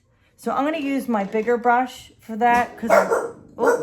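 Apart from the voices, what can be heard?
dogs barking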